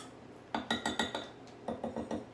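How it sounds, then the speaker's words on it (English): A metal whisk clinks rapidly against a bowl while spices are blended, in two short bursts of quick taps at close range, fairly quiet with no talking. "I'm just going to give that a little whisk around just to, blend it all together."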